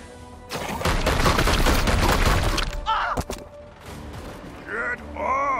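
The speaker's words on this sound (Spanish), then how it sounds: "Vamos a ir disparando a este sujeto." Loud, rapid gunfire rattles through a Warhammer 40K: Chaos Gate – Daemonhunters turn for about two seconds, followed by scattered impacts and whooshing, chirping effects as the barrage fades.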